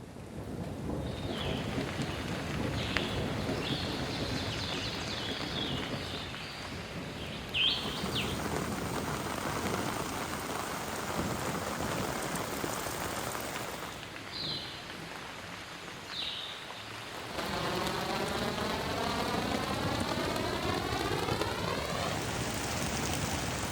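A thunderstorm drenches a campsite on an overland trip in Georgia: rain falls in a steady hiss, thunder rumbles at intervals, and birds chirp faintly in the background at a fairly low overall level.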